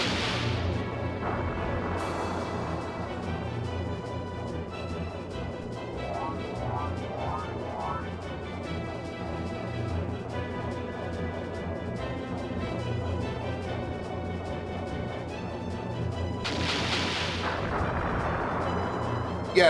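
Cannon fire from the video game Skies of Arcadia Legends, with heavy booms and blasts running steadily under layered game music for the whole stretch, loud and dense.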